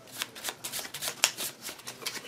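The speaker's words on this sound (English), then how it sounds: "everybody is going to shuffle their cards and make a deck" A deck of board game cards being shuffled in quick riffling bursts, close and fairly quiet, with a steady rhythm and no talking.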